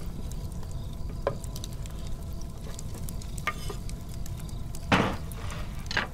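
Bok choy dropped into a camping pot of laksa at the boil, giving a steady bubbling sizzle with a few sharp splashy clatters and rustles near the end, close and alone.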